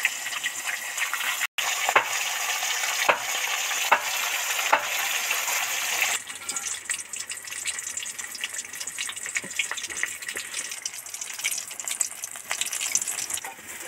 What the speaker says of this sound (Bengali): মুড়োটা ভাজতে একটু বেশি টাইম লাগে, উল্টে পাল্টে ধরে ভাজলে তবেই টেস্টফুল হয়।